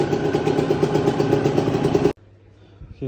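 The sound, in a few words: two-stroke scooter engine idling after carburetor air screw adjustment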